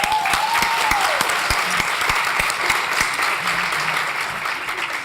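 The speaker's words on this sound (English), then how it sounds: "If you can give the tradition an applause." An audience at an Impact Awards ceremony on a college campus gives sustained, even applause that continues at a steady level throughout.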